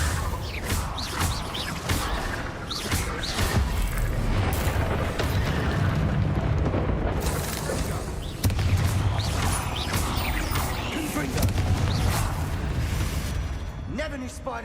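Confringo blasting spell explosions in the Hogwarts Legacy video game: dense, loud booms and crashing bursts roll on almost without a break over a heavy low rumble, with a voice speaking throughout.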